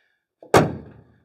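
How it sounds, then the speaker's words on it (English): A single heavy door of an old Chevy C20 pickup truck slams shut with a solid, low thunk, preceded by a brief faint click and followed by a short fading rattle. "listen to this door when I open this up"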